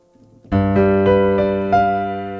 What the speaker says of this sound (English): This is called G dominant 7.